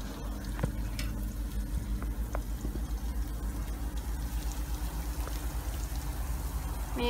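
Ingredients for ummalekede sambol frying in hot oil in a pan over reduced heat until golden, giving a steady, continuous sizzle and crackle that holds even and close throughout, with no voices.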